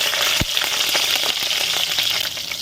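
Green chillies and curry leaves sizzle in hot oil in a pan for a dried fish curry, a loud, steady crackling fry with a brief pop near the start and no voices.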